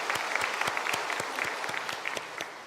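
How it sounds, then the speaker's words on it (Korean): A church congregation breaks into steady applause for its young people during a Sunday worship service, many hands clapping together in a dense, even wash that holds for the whole moment. "우리 수고한 청년들 위해서도 박수 한번 치겠습니다"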